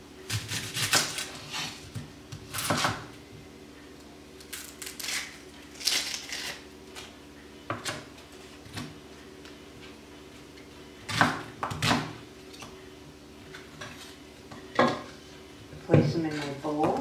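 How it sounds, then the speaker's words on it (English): Two large onions being roughly chopped with a knife on a board in a home kitchen, giving irregular clusters of firm knocks and clatters spaced across the stretch, with quieter pauses between them. "So now I'll take 2 onions and roughly chop them."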